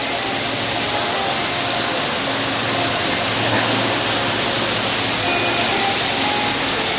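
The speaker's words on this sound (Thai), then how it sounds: "ด้านนี้น้ำตกที่เราเห็นกันไปแล้ว" A waterfall at a garden cafe pours in a steady, dense wash of rushing water, with faint voices beneath it.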